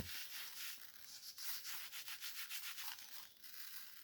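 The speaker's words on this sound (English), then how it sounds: "I'm just gonna put a little bit of salt on this. I'm just gonna rub it in." Salt is rubbed by hand into a chipmunk hide tacked up for tanning, a faint, close, gritty scrubbing in quick repeated strokes, with no talk.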